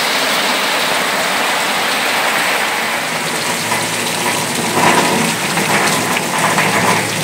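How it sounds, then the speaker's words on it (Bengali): Heavy monsoon rain pours steadily under a roadside shop shed in rural Odisha, a loud continuous hiss and patter with no talk. "বেশ জোরে বৃষ্টি হচ্ছে"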